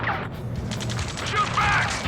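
Gunfire in the combat flight game Ace Combat 7: Skies Unknown, a dense, continuous rattle of shots at moderate level that carries on steadily behind battle effects, with no clear breaks across the short stretch.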